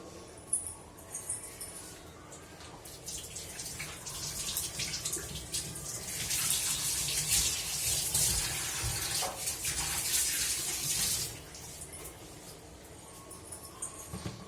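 Vegetables are washed under a running kitchen tap, the water splashing steadily and growing louder in the middle before easing off, with no talk.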